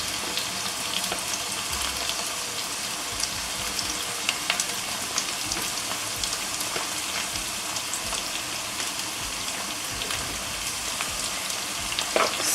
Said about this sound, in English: And now I'm going to put the onion.